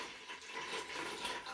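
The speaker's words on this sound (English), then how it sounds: "I am going to go ahead and splash some water in here." Water splashes steadily into a mead-making container for a banana melomel, a soft continuous pour close by with no talking.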